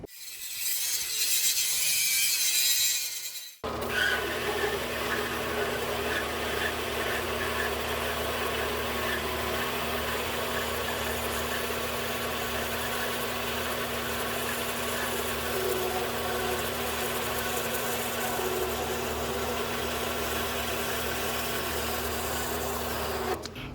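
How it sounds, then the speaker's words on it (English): An angle grinder cleans up all four sides of a forged jelly roll Damascus steel block. After a brief lead-in, it settles into a loud, steady, continuous whine with a gritty, rattling edge that lasts throughout, with no talk. "I'm going to clean it up with the grinder on all four sides"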